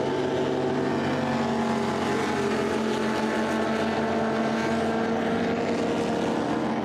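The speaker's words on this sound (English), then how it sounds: "Have a listen to the cars as they come through here." Historic racing cars at the Spa Classic on the Spa-Francorchamps circuit, in wet conditions, sweep past as one loud, continuous engine roar that holds steady throughout, with no talk over it.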